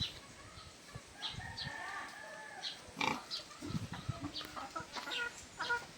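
A pig on a family farm in Calauag, Quezon, grunting in several short bursts near the listener, with chickens clucking and wings flapping around it in the same yard.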